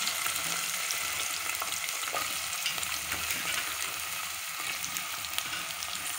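Onions fry in a pan for a Nutrela rajma curry, a steady crackling sizzle with occasional stirring, moderately quiet and with no talking.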